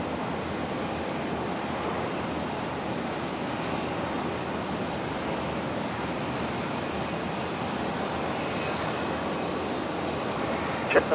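Virgin jet departing runway 19 right at Brisbane airport, a broad continuous rumbling roar of engines at steady loudness, rather distant and washy, with a small sharp sound at the very end.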